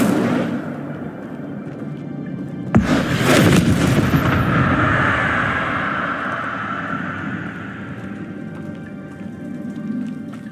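Incendio fire spell cast in Hogwarts Legacy, a sudden loud whooshing burst that swells and then fades into a roaring crackle of flames over several seconds.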